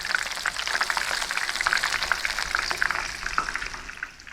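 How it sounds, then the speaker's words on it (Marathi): Prawns fry in hot oil in an outdoor yard, giving a dense, steady sizzle with close crackles and pops that carries on throughout and fades slightly at the end. "इकडे बघा आपले सर्व प्रॉन्स फ्राय होतो बघा"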